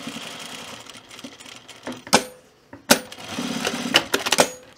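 A sewing machine stitches to reinforce a corner of a fleece pullover near the zipper, running in short close bursts with sharp clicks and pauses between runs.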